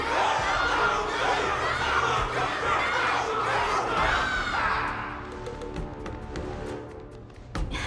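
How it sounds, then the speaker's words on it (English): A crowd in the video game Honkai: Star Rail cheers loudly after a battle, a dense roar of shouting voices that fades after about five seconds into quieter game music and effects. "Everyone's cheering for you, Luca!"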